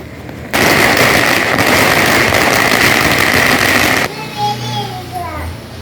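Diwali firecrackers go off close by in one loud, dense crackling burst that lasts several seconds. After it stops, people can be heard talking.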